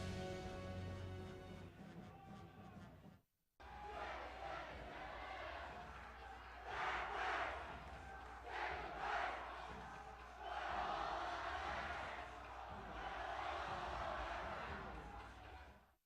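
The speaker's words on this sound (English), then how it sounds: "The crowd getting into it." Crowd at a 2014 CIF State girls volleyball championship match cheers and roars steadily and loudly, with surges and shouts rising and falling, after a brief silent cut near the start.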